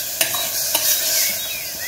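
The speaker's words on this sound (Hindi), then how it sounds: "तो प्याज ऐसा ऐसा फ्राई हो रहे हैं" Onions with grated garlic and ginger frying in a pan, a continuous near sizzle with a couple of sharp utensil scrapes, no talking.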